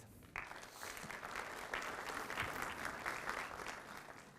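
An audience at a Kurdish self-knowledge lecture bursts into sustained applause that rises quickly and holds steady, a dense wash of many hands clapping throughout.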